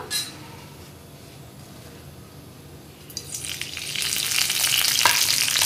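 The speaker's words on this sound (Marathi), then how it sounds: "कढीपत्ता चांगला तडतडला की आपण त्यात कांदा घालूया।" Quiet at first, then a sudden loud sizzle of curry leaves dropped into hot oil for tempering, crackling and spitting steadily.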